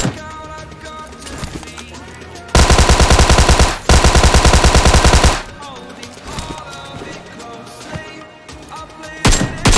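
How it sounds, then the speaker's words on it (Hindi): Loud rapid automatic gunfire from a shooting video game rattles in two sustained bursts around the middle, set against quieter game sounds before and after. "अब यहाँ पर काफ़ी टाइम के बाद एक बग्गी आती है और मैं उस पर फायर देता हूँ"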